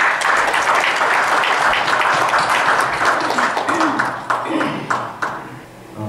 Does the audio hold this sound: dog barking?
no